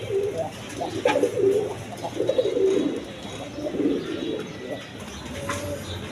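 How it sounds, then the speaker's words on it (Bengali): Pigeons of assorted colour breeds cooing close by in repeated soft, throaty phrases, with faint chirps and a little background noise. "দেখেন একদম ফ্রেশ কবুতর"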